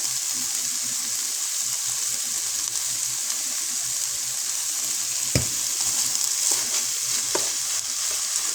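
Steady sizzling and scraping of chili being stirred in a hot pan, close up, with a few sharper knocks partway through.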